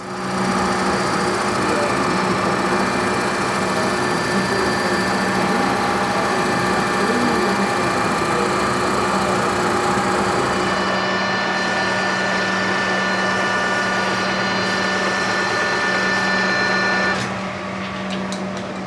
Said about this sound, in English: so that it can go to this big machine, the lathe